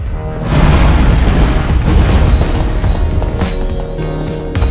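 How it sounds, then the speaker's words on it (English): A TNT block blows up in Minecraft: Story Mode with a loud, sustained rumbling blast that rolls on for several seconds and slowly thins out. "We have gunpowder! TNT!"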